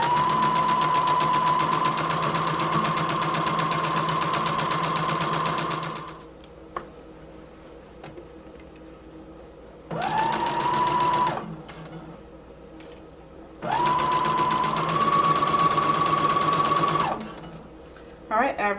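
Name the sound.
sewing machine stitching a skirt pocket seam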